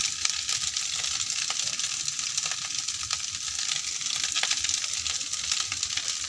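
Food frying in a hot pan while being stirred, with salt about to go in for a home-style pasta, a dense, even sizzle broken by quick scraping strokes, near and steady without any talking.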